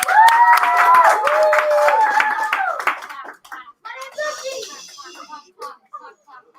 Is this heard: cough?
no